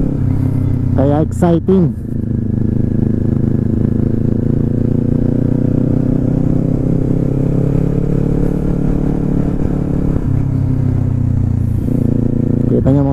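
A Kawasaki Z400 motorcycle is ridden around in the Philippines, its engine a steady, close drone running throughout, with a rider talking over it and a couple of brief higher-pitched bursts near the start.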